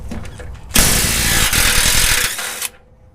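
Impact wrench fitted with a deep 14 mm impact socket removing engine and transmission mount nuts, a loud close burst of rapid hammering lasting about two seconds, then stopping abruptly.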